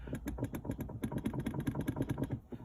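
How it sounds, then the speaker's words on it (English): Inside a 2015 Subaru WRX, the gear shifter is moved from first toward second with the clutch down, heard as a rapid, close series of dull knocks and clicks over a low engine hum. "So here, clutch down, first gear,"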